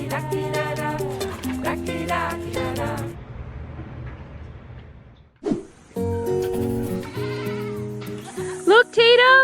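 Several goats bleat loudly and close by in wavering cries, with a pause midway and more bleats toward the end, while someone talks to them between calls.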